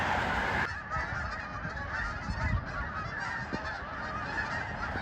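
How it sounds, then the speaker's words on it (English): A flock of geese honks steadily overhead as they fly past an amusement park construction site, the calls continuous and fairly loud against outdoor background noise, with no talking. "So many geese flying up ahead"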